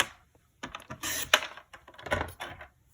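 A paper trimmer slices a triangle piece off cardstock with a short series of close, dry clicks and scraping cuts lasting about two seconds.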